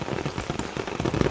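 Heavy rain pours at midnight outdoors, a dense, loud, steady patter drumming on surfaces throughout with no pauses.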